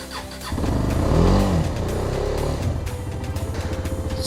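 A KTM Duke 250 motorcycle engine catches after a short crank, surging up loud and close, then settling into a rapid, even idling putter.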